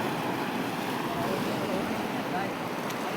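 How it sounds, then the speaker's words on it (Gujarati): Sea surf at high tide near a seaside temple on the coast, a continuous broad wash of surging waves with wind noise buffeting the microphone, loud and steady throughout. "જો ઉલ્લાળા મારે દરિયો"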